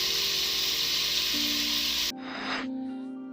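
Chicken pieces frying in hot oil until golden brown, a loud, steady close-up sizzle that runs for about two seconds, then drops away to a quieter background with faint residual crackle.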